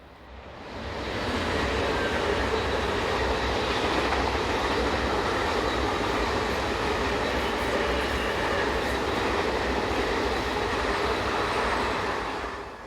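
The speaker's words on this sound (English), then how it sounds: "Class 500 intercity units are common to this route." Swiss Class 500 intercity train units, sets 500 026 and 019, passing on the St. Gallen–Solothurn route with a steady loud rolling roar and faint rail clatter that holds for nearly the whole stretch.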